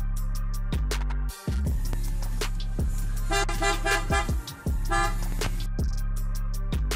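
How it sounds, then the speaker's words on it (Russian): An IPS Superior Bass Horn tuned to 330 and 400 Hz on a Toyota Hilux Surf sounds in loud, sustained two-tone blasts, broken by a brief gap and short toots, with low engine idle beneath. "Сигнал IPS Superior Bass Horn 330 плюс 400 Гц."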